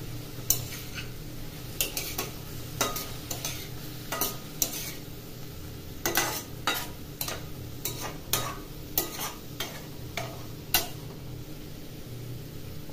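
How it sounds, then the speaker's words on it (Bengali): Chopped green chili gets stirred into onion and tomato frying in a pan, a spoon scraping and clinking against the metal in a steady irregular rhythm over a low continuous sizzle. "কাঁচা লঙ্কা কুচিটা মিশিয়ে নেব পেঁয়াজ আর টমেটোর সাথে"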